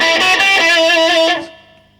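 A short burst of distorted electric guitar from a Hondo H1030, a thick sustained chord ringing loudly before cutting off and fading into silence.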